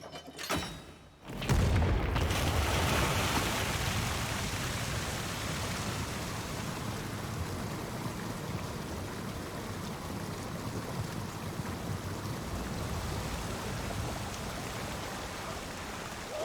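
Water rushing and draining after a water gate opens in a video game, a loud broadband wash that surges in after a brief thump and then holds steady, close and continuous.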